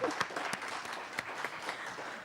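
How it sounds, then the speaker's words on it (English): Audience applause at a council meeting, a short burst of clapping from a crowded room that fills the whole moment, with a faint voice briefly underneath. "Let's give him a round of applause for the work that he will be doing."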